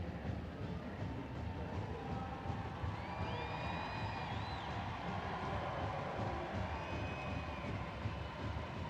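A large stadium crowd at an NWSL women's soccer match between OL Reign and Kansas City Current sustains a steady, distant roar of cheering with faint whistles and shouts rising above it.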